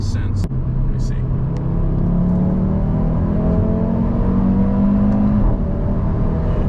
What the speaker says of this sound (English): it's just an instant surge of torque as soon as that turbo kicks in, and it's a much bigger turbo